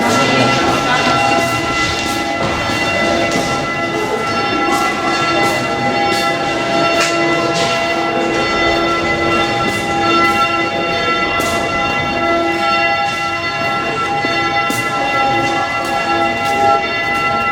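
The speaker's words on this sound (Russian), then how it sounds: "Слушай, колокола." Loud church bells ringing continuously at Les Invalides in Paris, with layered, sustained metallic tones and repeated strikes, filling the space without pause.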